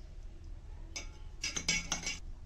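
A spoon stirs a flavoured drink mix in a drinking glass, giving a few quick metallic clinks in two short bursts, fairly close but quiet, with no talk.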